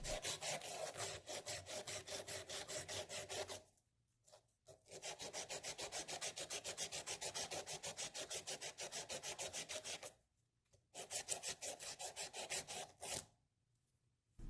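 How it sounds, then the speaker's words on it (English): Sandpaper looped around capillary tubing rasps in fast rhythmic back-and-forth strokes, close and steady, with brief pauses between bursts. "Loop the sandpaper around the end of your tubing and thoroughly sand."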